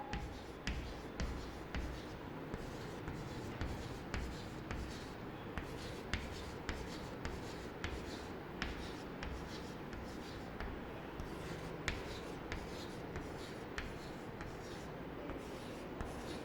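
A pen drawing sets of balls on paper, heard as steady scratchy strokes and light taps repeating through the whole stretch, close but faint over a low background.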